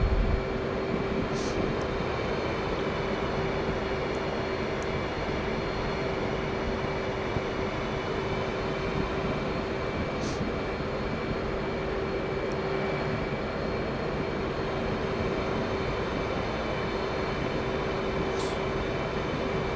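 An F/A-18C or F-15C jet taking off in the DCS World flight simulator, a loud, steady engine roar with a constant whine that stays even throughout, broken by a few faint clicks.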